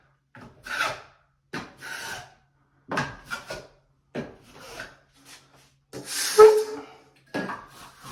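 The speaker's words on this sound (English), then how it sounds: "I'm coming straight across and I turn my trowel down" Steel trowel spreading and feathering drywall joint compound over a torn drywall repair, heard as a series of short scraping, rasping strokes with brief pauses between them.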